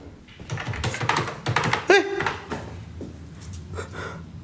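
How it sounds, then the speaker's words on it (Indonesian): Keyboard typing clatters in a quick run of clicks and taps, moderately close, with a sharp thunk midway, in a supposedly haunted clinic; no one speaks over it. "Ada suara yang ngetik, guys."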